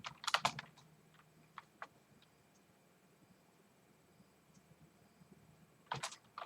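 Brief bursts of keystrokes on a computer keyboard, entering Emacs shortcuts, come in two quick clusters at the start and end with a few isolated clicks between, quiet and close.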